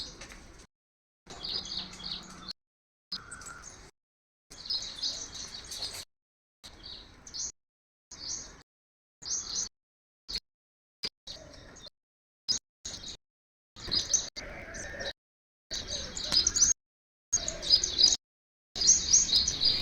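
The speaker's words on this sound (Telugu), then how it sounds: "అనేక రకాల పక్షులు అయితే ఇక్కడికి వచ్చి వాళ్తా ఉంటాయి. వాటి అంటే అవి అరుస్తూ ఉంటాయి కదా, రకరకాల శబ్దాలు అనమాట." Various birds call from the trees around a home, their chirps and tweets arriving in short intermittent bursts separated by gaps, fairly faint and with no talking.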